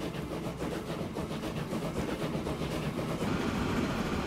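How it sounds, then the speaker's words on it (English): Train running in the video game Transport Fever 2, a steady rumbling roll with faint rhythmic clatter that holds at an even level throughout, with no voices over it. "let's go ahead and grab a train ride on here"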